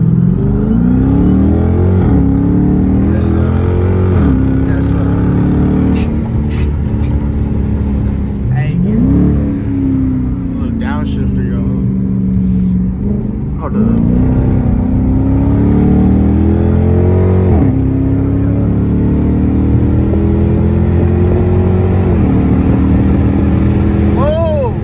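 A Dodge Charger with a 345 Hemi V8 rumbles loud and close, revving repeatedly in rising and falling sweeps over a heavy idle, while people talk over it.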